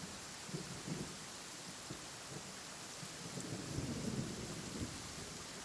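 Low thunder rumbles from lightning bolts roll under steady rain and hiss, distant and fairly faint, swelling slightly toward the end with no voices.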